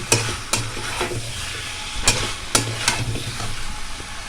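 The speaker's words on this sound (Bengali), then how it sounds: "আলু আর মশলাটা ভালো করে আমি কষিয়ে নিচ্ছি।" Potatoes and spices being stir-fried for aloo dum in a pan, with a steady sizzle broken by sharp scraping strokes of a spatula at irregular intervals, close and clear.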